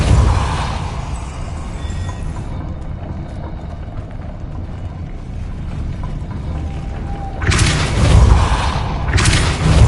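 Depulso force spell cast in Hogwarts Legacy, a dense rumbling blast of magic with debris and impacts, followed by a sharp louder burst of crashing energy near the end.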